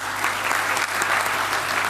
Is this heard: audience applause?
yes